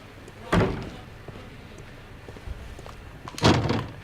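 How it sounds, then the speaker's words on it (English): Door opening in the Sherlock Holmes Crimes & Punishments video game, two separate heavy wooden thumps with a creaking clatter about three seconds apart over quiet room ambience. "So open the door and head down."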